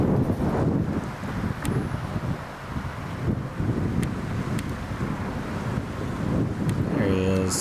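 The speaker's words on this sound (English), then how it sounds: "gusty wind." Gusty wind outdoors at a bass fishing spot in Dallas, Texas, buffeting the microphone with a continuous loud rumble that rises and falls in waves, with occasional faint clicks.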